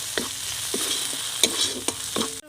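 Turmeric, cumin and coriander powder are stir-fried in a pan for a vegetarian dahi potol, with several distinct spatula scrapes over a soft sizzle and no talking.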